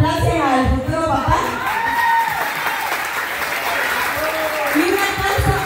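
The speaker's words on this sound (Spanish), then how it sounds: "Aplausos al futuro papá." Guests at a baby shower clap steadily for the father-to-be, with scattered cheers and whoops and voices talking over the applause throughout.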